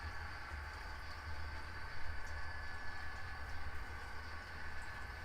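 An HO scale model GP9M locomotive runs steadily along layout track, a continuous low rumble with a faint mechanical whine, fairly quiet and even throughout.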